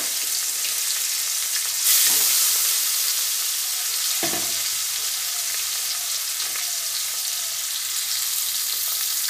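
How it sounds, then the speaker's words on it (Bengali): Rohu fish frying in hot oil in a pan, a continuous bright sizzle heard up close, with occasional knocks and scrapes as the pieces are moved. "আর দুটো মাছও আমি ওরকমভাবে ভেজে নিচ্ছি"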